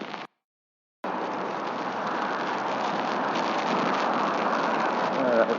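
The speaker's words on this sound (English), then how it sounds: "This is quite an onshore breeze with the rain coming down." Steady rain falls in a strong onshore breeze on a Montevideo coastal road, a dense even wash of drops and wind that runs on after a brief silent gap near the start.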